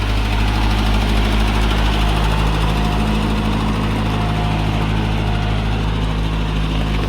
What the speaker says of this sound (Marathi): काय ट्रॅक्टर सफारी आहे